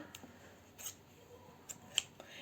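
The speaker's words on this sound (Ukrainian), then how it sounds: "Ножиці. Ножиці це інструмент" A few soft, brief snips of sewing scissors cutting fabric, scattered and fairly quiet against a faint background hiss, with no talking.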